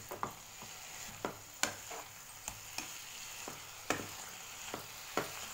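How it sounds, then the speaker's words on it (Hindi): A spoon stirring spices with turnip in a pan over medium flame, with soft sizzling throughout and a dozen irregular scraping clicks as the utensil strikes the pan, quiet and close. "तो चलिए अब हम सारे मसालों को शलगम के साथ अच्छे से मिक्स कर लेंगे।"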